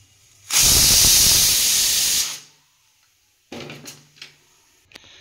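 A pressure cooker of dal releasing a loud, sustained hiss of steam after three whistles, lasting about two seconds, followed by a pause and some softer kitchen clatter and bumps.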